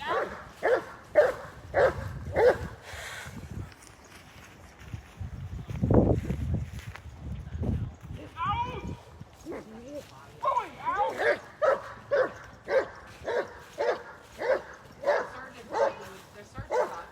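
Dogs bark in quick, rhythmic bursts at an outdoor gathering, with a steady run of close barks at the start and again at the end, and people talking in the quieter stretch between them.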